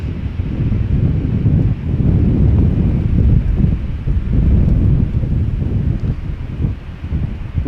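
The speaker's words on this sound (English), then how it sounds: "Wind isn't calming down yet." Wind blows outdoors at Amsterdam Schiphol Airport, a loud continuous rumbling gust buffeting the microphone with no other clear sounds.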